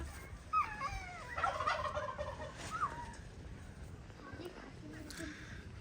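A turkey on a farm in Nepal gobbles in a quick, warbling burst, followed by a couple of shorter calls, heard fairly close over a low outdoor background.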